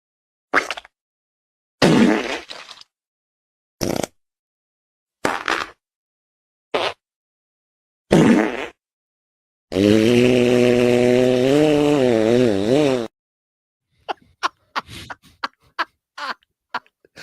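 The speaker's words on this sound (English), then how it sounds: "you ever imagine what it sounds like when they fart?" A run of fart sound effects plays as separate short bursts with silence between them. A long, wavering buzzy blast sits in the middle, followed by a quick stutter of tiny pops at the end, with no talk over them.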